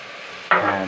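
Beans and onion hit hot oil on a stove with a sudden loud sizzle that starts halfway through, after a quiet hiss, and holds steady to the end.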